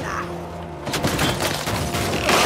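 Sniper gunfire in the Uncharted game, with several sharp shots and booms that burst in after a calmer opening and then sit over dense, busy battle noise.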